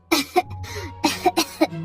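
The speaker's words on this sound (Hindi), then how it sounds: "अम्मा खांसते हुए कहती है" A sick elderly woman lying on an old cot coughs in several harsh bursts, close and loud, with a low hum underneath.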